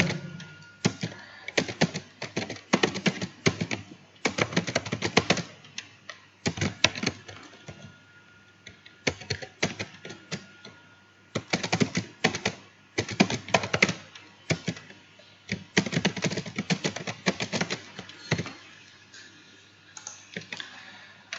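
Computer keyboard typing in bursts of rapid clicking keystrokes, with short pauses between runs, close and fairly quiet with no talking.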